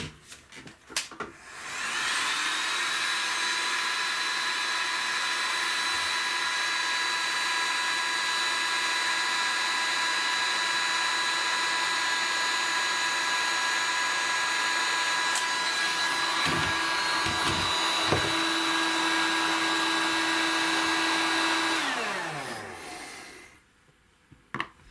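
A heat gun blows hot air onto heat shrink tubing over wire ends on an airsoft AEG, a loud steady whirring hiss lasting about twenty seconds before it shuts off with a brief spin-down, with no talking.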